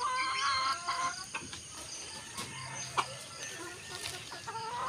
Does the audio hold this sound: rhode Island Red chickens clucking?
yes